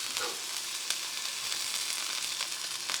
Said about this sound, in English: put that block in, smush it around that pan